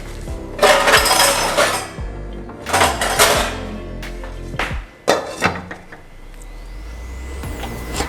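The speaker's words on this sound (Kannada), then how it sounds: "ಇವಾಗ ಇದು ಸ್ವಲ್ಪ ಲಿಡ್ ಕ್ಲೋಸ್ ಮಾಡಿ ಇಟ್ಬಿಡ್ತೀನಿ" Metal pot lid clanks shut several times on a cooking pot while akki rotti is being made, with sharp close clinks and rattles spaced across the stretch over a low kitchen hum.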